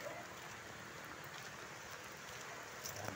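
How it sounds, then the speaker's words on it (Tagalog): Rain falls steadily in Zambales, with a dense, even hiss and patter that continues without a break. The rain is moderately loud and close, and no voices are heard. "Dahil po umuulan na naman mga idol"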